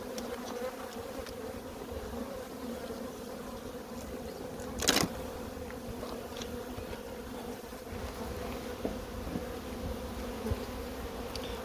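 Bees hum steadily inside a hive that is requeening after its queen left, a low continuous drone close by with one brief sharp noise partway through and no voices.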